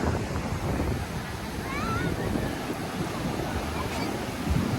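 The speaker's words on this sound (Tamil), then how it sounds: "திடீர்னு வர கடல் தண்ணி தண்ணி அதிகமாக வருது" Sea waves wash continuously onto Calangute Beach in Goa, a broad steady roar mixed with wind buffeting the microphone, with faint crowd voices in the background.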